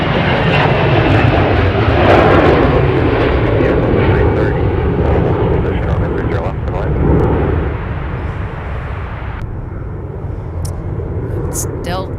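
An airliner departs Minneapolis–Saint Paul airport with a loud, sustained engine roar that swells and then eases slightly as it moves off, with a voice briefly under the noise.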